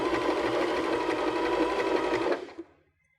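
A Baby Lock BL9 sewing machine runs steadily, stitching a narrow zigzag with a fast even mechanical whir, close and loud, then stops near the end, leaving a brief click and quiet.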